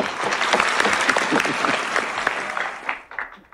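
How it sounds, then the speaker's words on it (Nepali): A studio audience at a comedy show breaks into loud, sustained applause that thins out and fades near the end. "अमर काकाको लागि जोरदार ताली"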